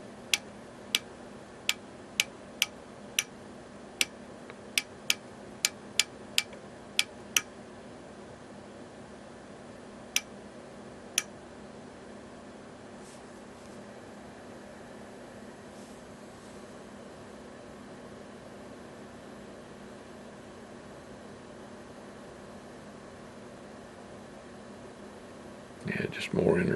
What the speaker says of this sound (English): just more interference